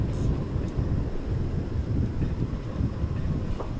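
Thunderstorm ambience in the Far Cry 2 video game: a continuous low rumbling roar of thunder and wind, fairly loud and unbroken, with a faint brief crackle near the start and no voices.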